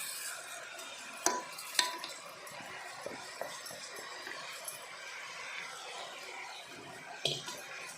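Rice, peas and cauliflower being stirred together in a pot for biryani, with a steady scraping rustle and a few sharp clinks of the utensil against the metal, fairly quiet and close, with no talking.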